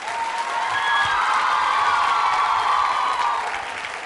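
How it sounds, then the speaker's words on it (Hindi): Students of Vaidik Kanya PG College applaud at a Rajasthani culture quiz show, a broad sustained wash of clapping with some cheering that swells and then tapers slightly. "वैदी कन्या पीजी कॉलेज के विद्यार्थी जो तालियां बजा रहे थे अपने स्वयं के लिए"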